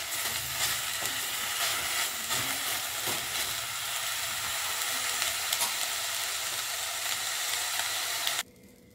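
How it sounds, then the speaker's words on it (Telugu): Curry leaves dry roasting in a pan on a stove at low heat give a steady close crackling sizzle with light stirring scrapes, continuous throughout before cutting off abruptly at the end, with no talking. "ఇది కూడా కాస్త డ్రై రోస్ట్ అవ్వనిద్దాము. స్టవ్ సిమ్లోనే ఉంచుకొని చేద్దాము."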